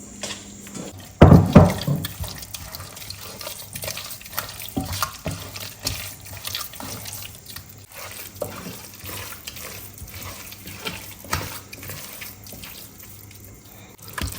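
Water splashes into a bowl of grated cassava dough and is worked in by hand for banku, a loud pour at first, then wet squelching and sloshing that stays quiet and irregular.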